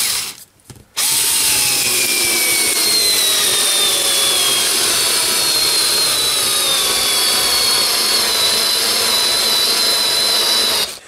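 A Xiaomi cordless 3.6V LiPo screwdriver drives a screw into wood with a Pozidriv bit, a loud steady high motor whine running about ten seconds after a brief pause, the wood splitting as the screw goes in.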